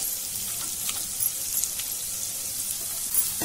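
Onion and green chilies sauté in a pan with a steady hiss of frying and a few soft stirring scrapes, close and continuous.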